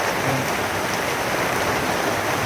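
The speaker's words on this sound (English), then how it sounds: "it's raining pretty good" Steady rain pours down in a constant hiss in Nicaragua, close and even throughout, with no voices.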